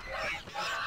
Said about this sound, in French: il y a une autruche là